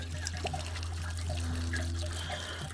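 Water steadily trickling and splashing out of an RV's Suburban water heater as it drains, close by and continuous, over a low steady hum.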